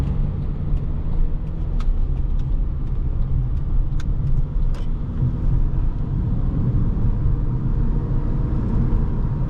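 A 2009 Honda Accord LX driving on the road, heard from inside as a steady low road rumble and engine drone with faint tire noise, continuous and unchanging throughout, with no talking.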